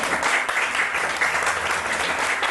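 Applause from a crowd at a school function, dense continuous clapping close by that holds steady for a few seconds.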